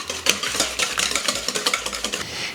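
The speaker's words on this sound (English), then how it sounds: "so I'm just popping the egg yolks into a bowl, and I'm just gonna whisk them together" Egg yolks whisked in a bowl, a quick run of rhythmic clinking and scraping strokes, close and fairly loud, with no talking.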